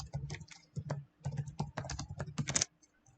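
Ordinary text being typed on a computer keyboard, a steady run of quick, close key clicks in irregular bursts with brief pauses between them.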